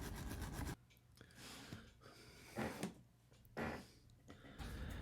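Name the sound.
brass bristle brush scrubbing a Hot Wheels car base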